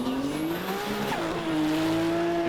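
A Toyota JZX drift car roars past during Formula Drift Japan qualifying at Okayama in 2016, with a sustained high engine note and screeching tire squeal, loud and continuous throughout.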